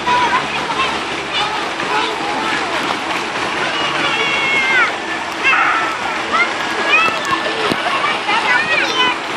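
Water splashing steadily down a slide at the Water Wizz water park in Wareham, with children's voices and shouts mixed in throughout.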